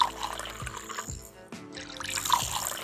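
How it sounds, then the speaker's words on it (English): Coca-Cola with soaked Tums poured out of a jar, liquid splashing and gurgling in several separate bursts with brief glugs and pauses between them, close and fairly quiet. "So let's go ahead and pour this out here."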